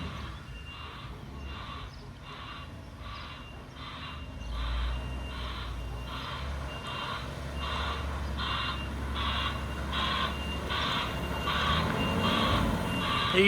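A gravel delivery truck backing up outdoors, its reversing alarm beeping in a steady regular rhythm over a low diesel engine rumble that grows slightly louder, no talk.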